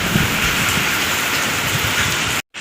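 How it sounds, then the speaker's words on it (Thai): Heavy rain pours down in a dense, steady hiss beside a long canal during a fishing trip, loud and close, cutting off abruptly near the end. "ฝนตกหลบฝนก่อนครับ"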